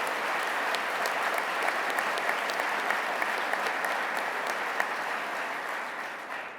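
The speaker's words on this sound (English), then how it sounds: "Let's give Howard Zemsky a big round of applause." An audience at an awards ceremony gives sustained applause, dense steady clapping from a large crowd that holds evenly for several seconds before starting to taper.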